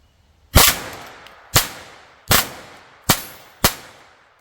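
Taurus TX22 .22 pistol fitted with an FRT trigger firing at a range; five sharp, loud cracks spaced roughly a second apart with brief ringing tails between shots.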